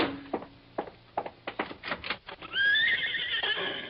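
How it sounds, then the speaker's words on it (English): A horse whinnies loudly outside in an old radio detective drama, a long rising neigh near the end after a run of sharp hoof clops and knocks, with no talk over it. "Why, yes, that's a horse out there."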